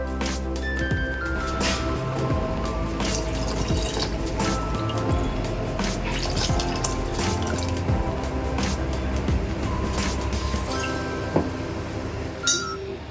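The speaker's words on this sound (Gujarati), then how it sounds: "હવે આપણે પાણી અંદર એડ કરી દઈશું" Water runs into a pot of cracked wheat and moong dal, a continuous trickling, filling pour with light clinks against the vessel, close and steady, ending with a few small knocks.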